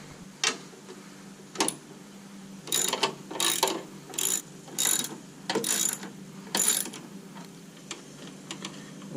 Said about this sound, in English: So now we're going to take this hood prop off. It's two 10 millimeter bolts.